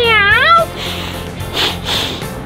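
A person imitates a bobcat with a high, wavering meow lasting about half a second, followed by a quieter stretch of crowd noise at a Diamondbacks baseball game.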